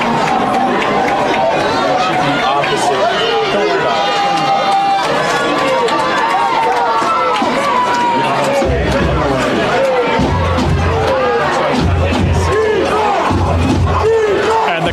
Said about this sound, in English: And the crowd chanting for the defense.